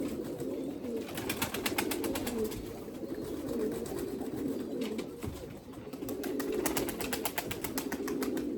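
Erzurum white breeding pigeons coo in a loft, a soft, continuous low warbling from several birds close by, with rhythmic fluttering or pulsing passages mixed in.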